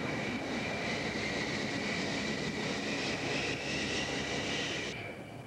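Twin TF-30 engines of a Grumman F-14 Tomcat jet roar in a steady, dense, continuous rush that stays loud and unbroken before easing slightly at the end, with no voices.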